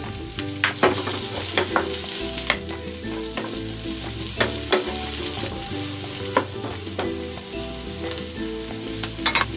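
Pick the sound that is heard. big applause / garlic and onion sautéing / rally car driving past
garlic and onion sautéing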